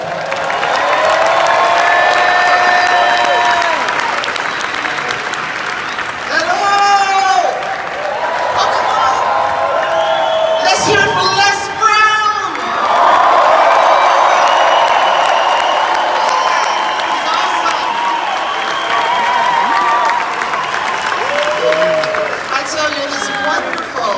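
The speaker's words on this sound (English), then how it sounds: "Celeste Johnson, give her a round of applause." A convention crowd in Las Vegas applauds and cheers after a speaker's call for recognition, sustained clapping mixed with loud voices and whoops, near and full throughout.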